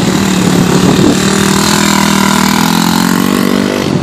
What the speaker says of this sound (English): Ride this bike all the way through there.